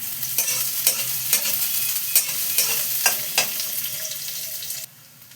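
Chopped onion and okra frying in oil in a pan, a close steady sizzle punctuated by regular scraping strokes of a spatula, cutting off abruptly near the end.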